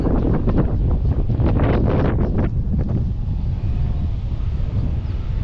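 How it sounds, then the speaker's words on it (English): Wind buffets the microphone outdoors near a river in Kuldīga, Latvia, a loud low rumble with sharp gusty bursts early on that settle into steadier blowing. "Trying to shield from the wind best as I can."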